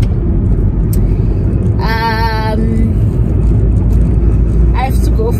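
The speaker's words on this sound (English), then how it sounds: "So we're driving, we're going somewhere." Steady low road rumble and engine drone heard from inside a moving car, continuous throughout, with a brief voice-like tonal sound partway through.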